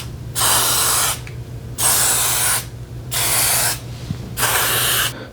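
Lubricant hisses out of a spray can onto a garage door in four evenly spaced bursts, each lasting about a second, with short quiet gaps between them.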